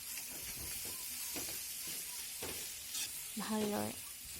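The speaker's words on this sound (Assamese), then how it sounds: "এয়া মই ধুনীয়াকৈ মিক্স কৰি দিওঁ বিলাহীখিনিৰ লগত আলুখিনি।" Potatoes being stirred into tomatoes in a pan over a low flame, a soft sizzle and hiss with scraping strokes from a spoon, close and steady, a few faint clinks of the utensil.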